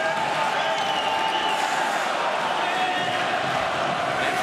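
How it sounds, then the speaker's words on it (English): Ice hockey arena crowd at an IIHF World Championship game between the Czech Republic and France, a steady broad roar of cheering that stays loud and even throughout, with a commentator's voice faintly under it. "The crowd is into it early."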